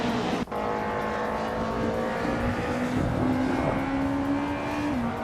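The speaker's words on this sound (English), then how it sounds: "behind the wheel of a classic 1995 BMW" A classic 1995 BMW DTM race car at Suzuka drones with a steady engine tone that rises slowly in pitch, after a brief sharp click near the start, with no voices.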